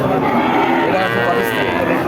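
A young heifer calf moos in a long, drawn-out call, close by, over a busy background of crowd chatter at a cattle market in Jhenaidah, Bangladesh.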